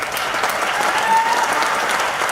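Audience applause at an MLM training session fills the clip with a loud, steady wash of clapping from a crowd, with no pauses.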